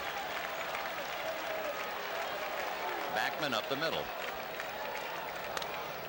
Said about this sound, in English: Low bridging just about the entire Mets club, and the crowd reacts.